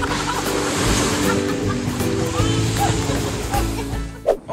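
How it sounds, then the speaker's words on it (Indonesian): Surf washes onto Pasir Putih beach in a continuous rushing roar, with people talking over the waves and a brief splash near the end. "kita udah sampai nih di Pantai Pasir Putih"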